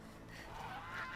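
Geese honking in the video game Horizon Zero Dawn, a steady stretch of nasal calls heard alone at moderate level over ambient game sound.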